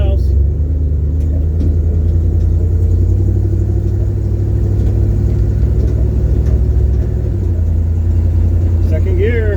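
A stripped Buick Skylark rumbles onto the highway in second gear, its engine a loud, steady low drone up close, with speech present over it.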